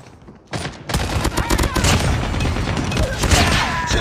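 Rapid automatic bursts from a Fennec submachine gun in a Call of Duty Mobile match start abruptly after a short quiet lead-in, then rattle on loud and dense, mixed with other gunfire and booms.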